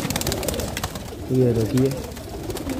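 Pigeons of Kaldume and Fulsar breeds, kept for sale in Lucknow, coo in a couple of low, throaty bursts near the middle, close by, while someone speaks briefly over the flock.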